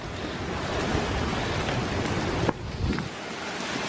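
A river flows near treehouse walkways at an off-grid retreat in Taranaki, a continuous broadband rushing of water with a brief knock or bump near the end.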